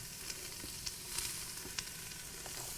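Onions and celery frying in a hot pan while cooking a Mardi Gras dish, a steady broadband sizzle with a few faint clinks and stirring taps, close and alone without talk.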